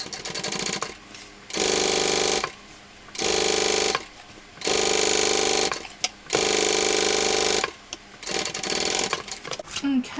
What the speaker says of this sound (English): Okay, we're top stitching on our lining, so my seams are underneath my lining.